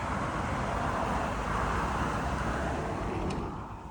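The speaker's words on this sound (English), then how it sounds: "You can hear the traffic, but it's quiet." Road traffic from a highway is heard from inside a house as a steady, muffled low rumble, faint and continuous with no distinct passing vehicles.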